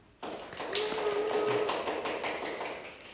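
A small group of people clap together for a few seconds, a dense run of light overlapping claps that begins abruptly and holds steady, with no talking.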